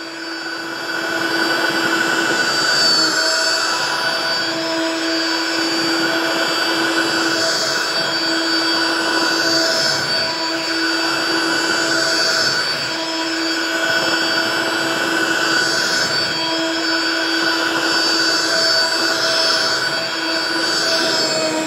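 A cordless Bissell Pet Stain Eraser carpet cleaner running on suction only: a loud, steady high-pitched motor whine with a constant tone, sustained throughout with slight wavering as it passes over carpet.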